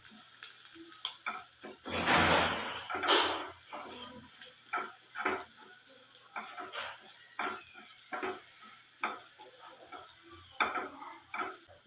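Shallots and chili powder sauté in a pan for a Kerala ulli chammanthi, with a soft, steady sizzle broken by close scraping strokes of a stirring utensil.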